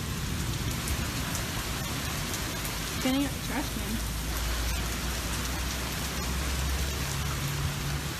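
Steady rain falls outside, loud and constant, with a low rumble of thunder building underneath and a brief voice speaking partway through.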